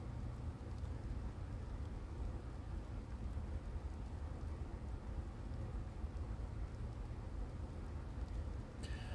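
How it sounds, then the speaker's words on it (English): Rain in the video game The Silent Age, a steady broadband hiss of falling rain with a low rumble underneath, constant and moderately loud. "again, it is raining."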